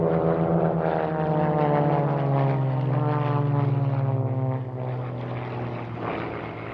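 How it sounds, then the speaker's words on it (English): A powerful propeller aerobatic aeroplane pulls up into a vertical climb at the RAF Fairford air show, its loud engine droning steadily with a slowly falling pitch and no voices. "Now pull up again to the vertical. It's a powerful aeroplane."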